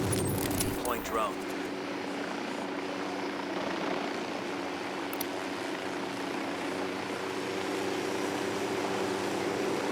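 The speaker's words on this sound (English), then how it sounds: "Deploying drone." A steady, droning rotor hum from a drone deployed in a combat video game runs evenly throughout, with voices over it.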